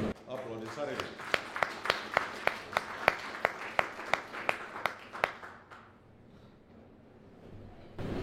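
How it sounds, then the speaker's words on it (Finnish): A small talk-show audience in a Tampere restaurant applauds a guest, with a dozen or so distinct sharp claps standing out over a steady patter, then fading to near silence before a voice returns. "Aplodit Sarille."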